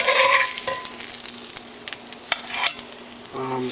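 Eggs sizzle softly in a cast iron skillet, a low crackling frying sound with scrapes and clinks of a utensil against the pan, fairly close and without any talk.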